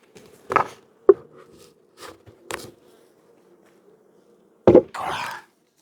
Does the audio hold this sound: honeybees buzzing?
yes